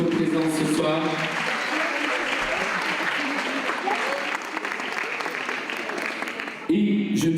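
An audience at a Miss Belle en Forme pageant evening applauds the committees, a sustained round of clapping that carries on under a host's voice and fades before speech and music return at the end.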